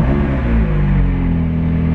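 Steady low engine rumble from a car on the move, close and continuous, with deep tones that shift slightly in pitch as it drives.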